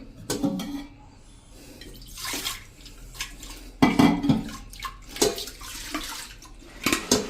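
Scrubbing and rinsing a metal pressure cooker with cleaning powder: scraping strokes, clanks of metal, and running water splashing in uneven bursts, fairly close.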